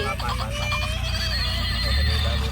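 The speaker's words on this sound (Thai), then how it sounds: "เป็นม้าสีขาวตัวเล็ก" A small white horse neighs in a park, a high wavering whinny over a steady low hum, with a person talking throughout.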